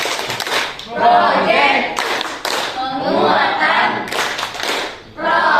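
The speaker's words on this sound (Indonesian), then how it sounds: "coba kita tepuk semangat dulu sebelum kita masuk" A school group performs a rhythmic spirit clap in unison, with bursts of patterned clapping mixed with chanted voices throughout.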